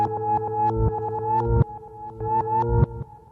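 A synthesizer on a Polyend Tracker plays a short repeating pattern of plucky notes, the pitch sliding upward into each note, clear and alone.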